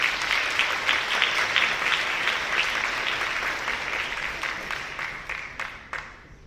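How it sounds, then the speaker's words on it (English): Audience applauding panelists at a technology launch event, a dense steady clapping that holds strong and then gradually thins and fades toward the end. "Please give a round of applause to our panelists."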